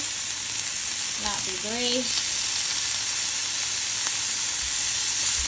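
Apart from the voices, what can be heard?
jumbo shrimp sizzling while pan frying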